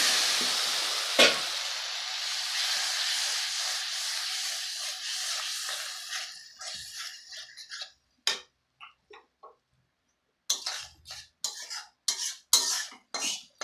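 Pabda fish curry frying in a pan, a strong continuous sizzle that dies away after several seconds, followed by intermittent scraping and clinking strokes of a stirring spoon, close with no talk.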